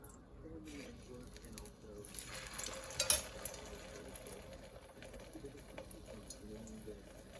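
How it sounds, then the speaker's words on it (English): Flour-and-egg-coated eggplant slices fry in a pan for eggplant Parmesan, giving a steady close sizzle and crackle with a brief louder burst as pieces are moved, while a voice talks over it. "So you're going to fry these until they're just a little golden, and they fry up pretty fast."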